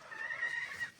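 A decorative chicken gives a single brief, drawn-out cluck, fairly faint and close, with no voices.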